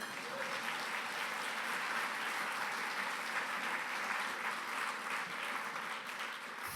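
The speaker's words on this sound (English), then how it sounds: "You give him a round of applause." A large gala audience applauds honoree Howard Brodsky at the Stephen Siller Tunnel to Towers event, producing a dense, steady roar of clapping that stays loud and even throughout with no talk over it.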